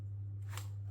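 A sourdough bread loaf being scored with a single quick blade cut, a short soft slicing swish against a low steady hum in a quiet kitchen.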